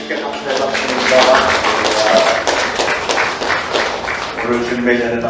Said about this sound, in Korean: 우리 주님께 감사의 박수입니다.